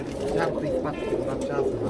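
Pigeons in a loft give low, soft cooing calls, repeated a few times close by beneath someone talking over them.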